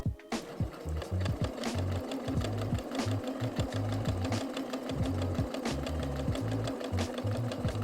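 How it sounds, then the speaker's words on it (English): A sewing machine stitches a curved scallop seam on a girl's bubble frock at short stitch length, a fast steady mechanical chatter with regular needle thumps, close and alone. "Decrease your stitch length and sew along your guideline."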